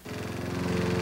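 Lawn mower engine running steadily in a TV commercial, a loud, close, buzzing drone with a fast regular pulse, no voices.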